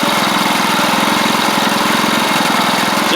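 A Troy-Bilt Pony riding mower with a newly fitted engine and head gasket, still slightly smoky, runs steadily at close range with a loud, even small-engine putter and no talk.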